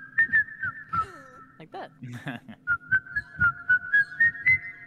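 A person whistles a string of short, bright notes in a bouncy rhythm within a tabletop Dungeons & Dragons session, with brief speech and other voices breaking in partway.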